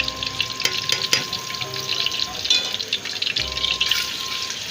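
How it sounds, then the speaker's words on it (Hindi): A steady hiss of ginger garlic paste frying fills the space, with scattered clinks and scraping from stirring; no voices, just the continuous sizzle up close. "सबसे पहले ये लहसुन अदरक पेस्ट शामिल कर रही हूँ,"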